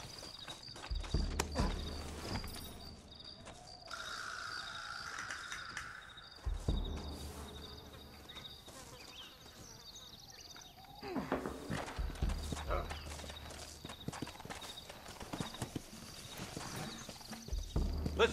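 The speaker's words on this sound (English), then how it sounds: "Looks like Carlos left us some horses." Horses in the video game Red Dead Redemption clip-clop with hooves in irregular bursts over steady insect and cricket chirping outdoors, with occasional voices and footsteps mixed in.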